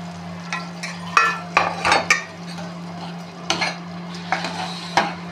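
Cooked green moong being tipped into a simmering curry and stirred, with a spoon clinking and scraping against the pot in several sharp bursts over a steady low hum.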